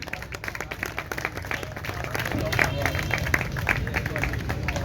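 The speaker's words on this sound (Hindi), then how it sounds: "भरपूर तालियां जी" Audience applause at a tournament prize distribution ceremony in Lahore, steady scattered clapping from a crowd with a murmur of voices mixed in, moderately loud throughout.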